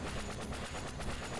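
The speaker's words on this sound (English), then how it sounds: "Explosion." Rapid, dense bursts of barrel explosions in a video game's Hectic Highway level, loud and continuous with crackling blasts overlapping throughout, no talking.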